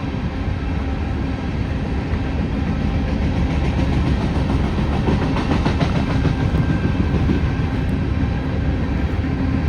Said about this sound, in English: Pretty sure this is going to be another train meet